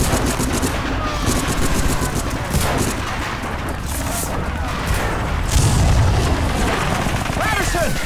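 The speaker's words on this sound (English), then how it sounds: "We'll give you cover fire!" Dense machine gun covering fire from a WWII Normandy landing battle in Medal of Honor Frontline rattles nonstop, mixed with booming explosions and battlefield clamour, loud and continuous throughout.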